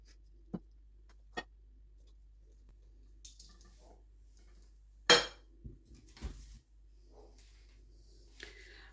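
Turkish Adana kebabs being dished out onto a plate in a kitchen: a few sparse clinks and taps of utensils and dishware, quiet and close, with brief clatters midway and near silence between.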